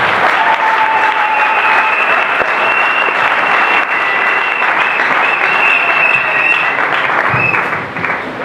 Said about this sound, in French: On va acclamer très fort pour le Seigneur.